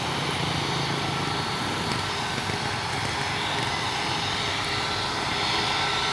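A loud, continuous roar of a large airplane's engines building power before takeoff, broadband and steady throughout, with heavy rumble and wind-like noise close by.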